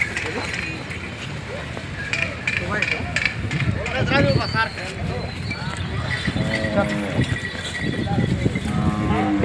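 Khillar bulls low at a busy cattle market, with several moos rising over a constant crowd murmur and nearby voices.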